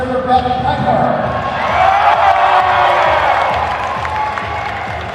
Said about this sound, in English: Another round of applause for another assistant coach